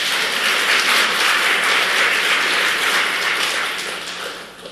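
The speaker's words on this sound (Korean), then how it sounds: "우리 같이 격려의 박수 부탁드리겠습니다." A church congregation gathered for a church officers' meeting applauds in encouragement. The clapping is dense, even and loud, then tapers off near the end.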